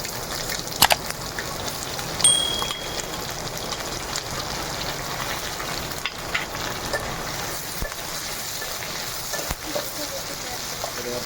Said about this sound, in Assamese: পিঁয়াজখিনি অলপ ফ্ৰাই কৰি আছোঁ এতিয়া প্ৰথমতে